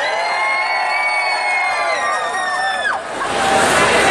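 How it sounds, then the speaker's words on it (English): A large crowd cheers and whoops loudly at an outdoor Christmas fair in a town square, a dense continuous roar of voices that briefly dips and then swells again toward the end. "Massive round of applause for Mayor Holden and Kerry and Santa Claus!"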